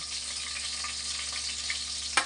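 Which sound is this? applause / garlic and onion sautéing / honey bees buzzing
garlic and onion sautéing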